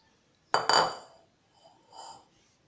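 A utensil clinks sharply against a bowl twice, then gives softer scraping strokes as sweetened condensed milk mixed with chocolate is stirred into whipped cream for a homemade four-ingredient ice cream.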